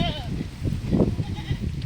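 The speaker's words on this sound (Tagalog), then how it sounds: "Nagkalat ang kambing." Goats roam loose on a windy rural farm, one bleat wavering briefly at the start and another faintly later, set against gusting wind noise close to the microphone.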